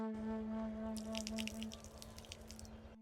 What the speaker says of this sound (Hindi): पानी आना प्रारंभ हो गया है यहाँ से